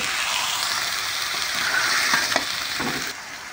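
Mushrooms and peas fry in a pan with spices, a loud continuous sizzle with scraping stirs from a spatula, close up and with no talk.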